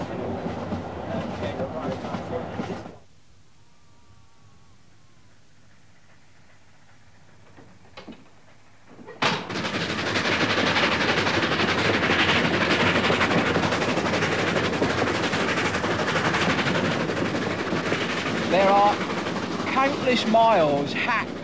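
A passenger train runs along a remote railway line cut through rock, its loud, steady rolling rumble and wheel noise filling the second half after a quiet gap, with a brief burst of similar sound at the start.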